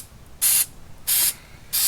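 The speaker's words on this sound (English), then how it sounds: "So we have some silicone mold release he's going to spray on, like baking a cake." Three short, loud hissing bursts of aerosol silicone mold release sprayed from about a foot away onto a mold for homemade concrete caveman weights, each lasting a fraction of a second with brief pauses between.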